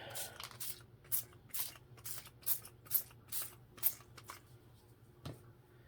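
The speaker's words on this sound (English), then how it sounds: "I'm going to spray it with some more of the oxide" Oxide ink spray is pumped onto paper for a craft project, about eight crisp, close spritzes in a steady rhythm, each a short hissing burst over a quiet room.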